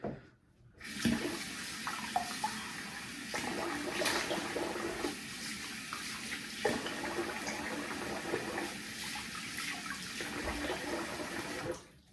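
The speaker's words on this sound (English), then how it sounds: "I'm gonna rinse the face here." Running bathroom sink water splashes as a face is rinsed after a shave, a continuous nearby rush with uneven splashes and swells, no talking.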